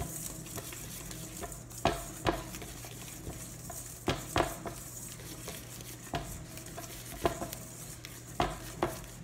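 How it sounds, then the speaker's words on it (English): A spoon stirs butter into fudgy brownie batter in a bowl, giving a steady close scraping with repeated sharp clinks against the bowl's side, and no voices. "It says to stir it until it's smooth."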